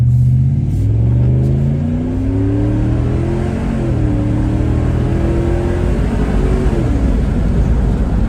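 A 2004 Ford Explorer with a 4.6L V8 and a Cherry Bomb muffler pulls away up close, its loud exhaust rising and falling through several revving shifts under a steady throaty rumble.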